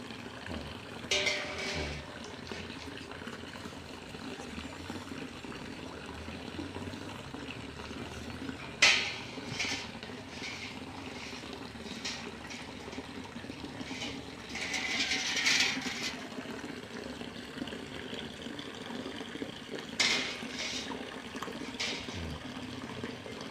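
An aeration stone bubbles air into a water tank fitted with a concrete filter, giving a steady, continuous fizzing and gurgling wash with a few brief, sharper splashes or clinks along the way.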